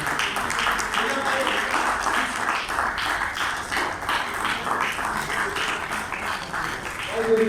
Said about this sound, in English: can you please stand up and give them a huge round of applause